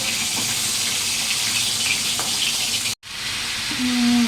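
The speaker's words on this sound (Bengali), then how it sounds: "মাছ ভাজা তেলেই আমি একটু জিরে ফোড়ন দিলাম" Cumin seeds sizzle in oil left over from frying hilsa fish, a bright crackling hiss that cuts out briefly, then resumes with a low hum near the end.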